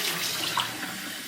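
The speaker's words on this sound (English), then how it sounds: "I'm going to rinse out the filter and filter screen" Tap water runs steadily and close by, rinsing a French press filter and filter screen in a brief, even splash with no talk.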